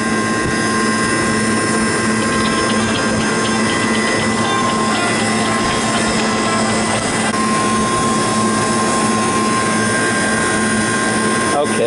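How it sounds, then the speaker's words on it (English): A refrigeration compressor runs loud and steady during a system pump-down at a florist shop's refrigeration unit with a pressure-control leak, giving a constant droning hum with a fixed tone that stays even throughout. "Now the compressor is going to pull all the gas"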